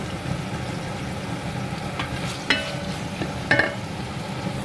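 Food sizzles steadily in a pan while a spoon stirs it, chicken curry paste about to go in; a constant frying hiss with a few sharp scrapes and clinks of the utensil against the pan, no voices.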